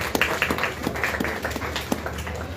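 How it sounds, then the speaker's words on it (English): A modest round of clapping from the audience at a book launch in a bookshop, sounding as separate, fairly close hand claps rather than a full roar. "So can we have a round of applause for that?"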